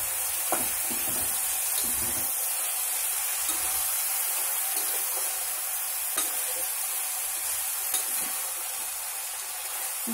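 Brinjal pieces go into a simmering gongura and tomato curry, giving a steady low sizzle with occasional soft stirring knocks, heard close and alone with no talking.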